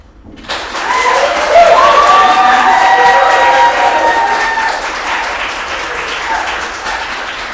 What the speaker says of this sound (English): So when I ask you to clap for the person coming up to the stage